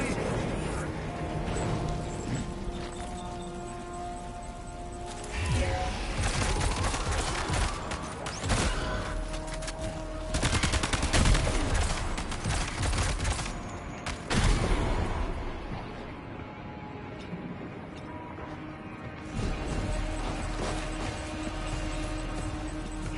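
Shotgun gunfire in a Kojima video game: heavy blasts in bursts amid dense, loud game action over about twenty seconds, with a few quieter gaps between volleys.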